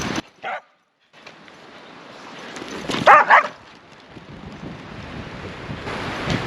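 A dog barks twice in loud, close bursts midway, on a windy lakeshore at Big Lake, Arizona, with gusting wind rumbling across the microphone and surf washing steadily throughout.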